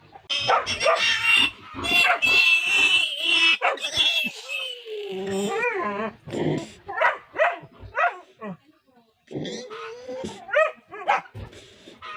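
An angry mother pig grunts and squeals loudly and agitatedly up close on a piglet farm, with a person talking and other animal noises mixed in.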